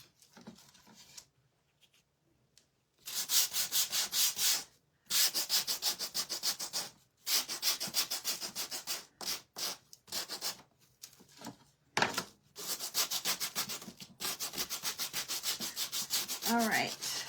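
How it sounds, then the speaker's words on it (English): A crafted wooden farmhouse bird is hand-sanded in repeated rhythmic rasping strokes, close and fairly quiet, grouped in bursts with brief pauses between them. "I think I'm gonna sand it a little bit"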